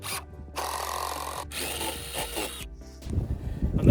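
A power drill with a 5/8 bit bores through a wooden board set over concrete, whirring loudly in bursts with brief stops, then shifting to rougher grinding as the bit works through the wood.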